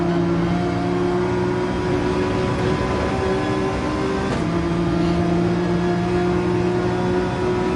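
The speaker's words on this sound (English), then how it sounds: "we got to make sure we rev out these gears" A Nissan GT-R engine in the racing game Gran Turismo 7 drones loudly and steadily at high revs, with a brief dip and shift in pitch partway through, as if changing gear.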